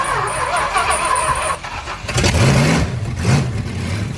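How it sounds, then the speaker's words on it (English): A 440 big-block V8 swapped into a Suzuki Samurai cranks briefly, then fires and catches with a loud, deep rumble that revs and settles into a lumpy idle. "Now that I've got this thing tuned up, it should fire right up."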